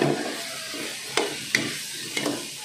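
Shrimp fry in cooking oil with a soft, steady sizzle, punctuated by a few light scraping stirs of a utensil against the pan.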